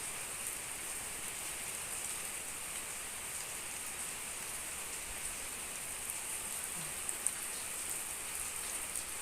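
Steady, dense rainfall hisses across the whole clip, a constant broadband wash of drops with no voices.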